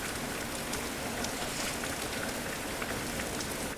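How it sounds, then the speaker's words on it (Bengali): Heavy rain pours during a nor'wester storm, a dense, unbroken roar of drops hitting surfaces at constant loudness from start to finish. "আর তার মধ্যে বৃষ্টিটা যেন বেড়েই চলেছে"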